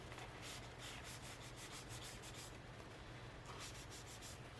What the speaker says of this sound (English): If you have rubbing alcohol, that will take permanent marker off.